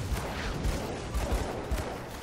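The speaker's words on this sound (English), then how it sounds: "Another flashbang going out." Flashbangs and gunfire-like bursts go off in the video game Grim Dawn, repeated sharp low thumps at fairly regular intervals over a steady din of combat noise.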